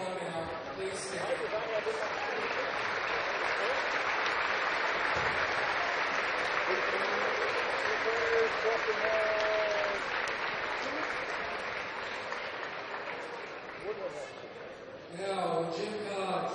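A gym crowd at a high school boys basketball game, Bluffton vs Woodlan, applauds standing Hall of Fame members: a broad, sustained roar of clapping filling the hall, easing near the end as a voice comes in.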